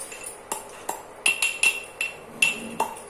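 Roasted sago is pounded in a pot to test whether it crumbles, giving a steady series of sharp, ringing metallic knocks close by, about ten strikes with no talk.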